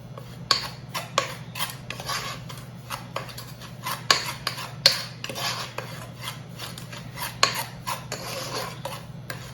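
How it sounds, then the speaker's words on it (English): A spoon stirs homemade ice cream custard in a pot, scraping and clinking against the sides in an uneven, close rhythm with no talking. "You want to make sure this is stirred up real good."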